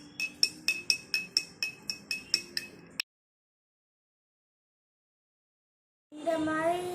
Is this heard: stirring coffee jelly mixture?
yes